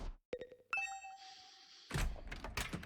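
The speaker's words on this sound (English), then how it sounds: "the sound of my doorbell ringing over and over" A two-tone electronic video game doorbell chime rings twice in quick succession, then a burst of rustling, thumping noise follows.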